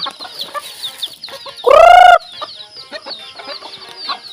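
A person makes a loud, short, trilling call to summon chickens to feed on a farm, surrounded by soft clucking and chirping from the flock.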